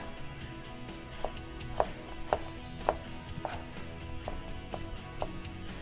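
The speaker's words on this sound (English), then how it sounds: "you cut those nicely into julienne strips" Knife strokes through vegetable planks cut into julienne strips on a cutting board, a run of sharp, evenly spaced chops with a few louder hits, close and alone with no talking.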